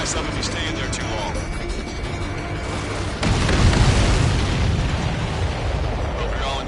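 Explosions in Ace Combat 7 during a mission flight, a continuous rumbling roar of blasts that swells louder midway, layered under game voices and engine noise.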